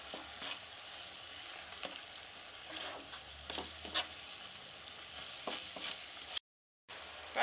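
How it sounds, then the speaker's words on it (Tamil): Tomato halwa with sugar stirred in a pan, a quiet soft sizzle with occasional scraping strokes, cut by a brief silent gap near the end. "இப்போ கைவிடாமல் நல்லா கிளறிக்கிட்டே இருங்க."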